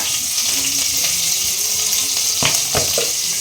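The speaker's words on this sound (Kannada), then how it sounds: "ಹಸಿಮೆಣಸಿನ್ಕಾಯಿನ ಹಾಕ್ಕೊಂಡು ಸ್ವಲ್ಪ ಫ್ರೈ ಮಾಡ್ಕೊಳ್ಳಿ" Green chillies fry in hot oil in a pan, a loud, steady sizzle close up, with a few sharper clatters of stirring near the end.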